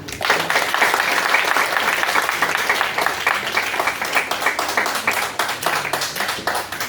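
An audience claps steadily at a waste management program, a dense, even applause that holds at a strong level throughout.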